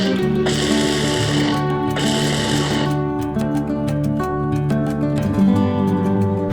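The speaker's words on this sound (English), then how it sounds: "Give one more go in the processor. And now the pistachios go in." A food processor grinding pistachios for salted caramel barfi gives a loud, steady motor whir with two bursts of harsher grinding, then a rhythmic clattering chop as it runs on.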